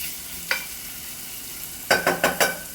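Onions frying in a pan as they are mixed in: a steady soft sizzle, one early spatula scrape, then a quick cluster of four scraping stirs near the end.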